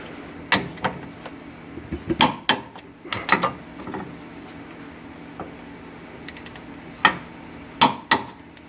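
Bolts joining the cross-member to the 4R100 transmission on a Ford Super Duty V10 4x4 are tightened to 70 foot-pounds: sharp metallic clanks and tool clicks in irregular bursts, close by, separated by quieter gaps.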